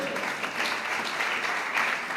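A church congregation applauds during a worship service, producing dense, continuous clapping at moderate volume with a faint hint of voices mixed in.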